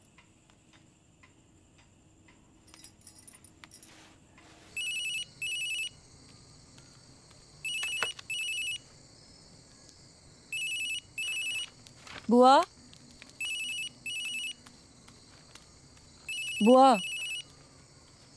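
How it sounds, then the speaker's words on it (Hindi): Mobile phone ringing indoors in a Hindi household scene, electronic ring bursts repeating in short pairs with a sliding chirp tone between them, while people talk nearby and one voice calls out. "देखो तो फोन है किसका"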